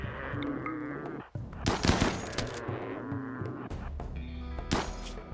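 Rapid bursts of chain shotgun fire in RimWorld, close and loud, clustering in several volleys over a steady game background.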